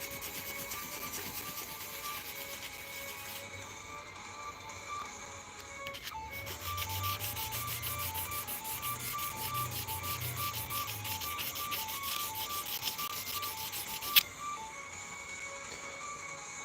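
Steady abrasive sanding strokes work at scratches in a workbench top, a continuous rubbing hiss close by with rhythmic low pulses partway through and one sharp knock near the end.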